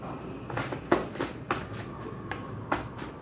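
Tarot cards shuffled and drawn in a card reading, a steady run of soft papery riffles and flicks with several sharper slaps, close and fairly quiet with no talking.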